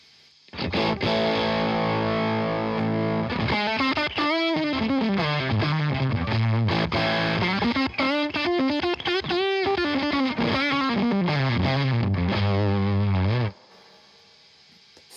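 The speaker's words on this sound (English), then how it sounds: "It's like a blend between an overdrive and a fuzz" Heavily distorted electric guitar through a Pedalborn Stormcaller overdrive-fuzz pedal, thick fuzzy tone, playing sustained chords and bending melodic lines for about thirteen seconds, loud and alone.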